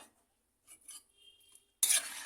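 A spoon stirs meat and potatoes in a pot of water, making faint, soft scraping and rubbing sounds in short bursts, then a louder, brief scrape of metal against the pot, with no voices.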